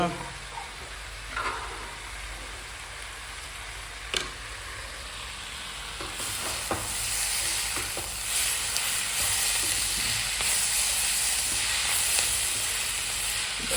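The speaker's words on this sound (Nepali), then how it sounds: "यता तरकारी यस्तो हुँदैछ, यता दाल उम्लिँदैछ" A pot of lentils boils and a cabbage curry cooks on a stove, bubbling and sizzling steadily, a soft hiss growing louder and fuller about halfway through, with a few faint clinks.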